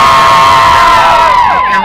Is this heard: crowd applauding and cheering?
yes